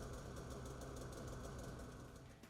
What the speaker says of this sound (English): Finally, start the engine to ensure proper operation.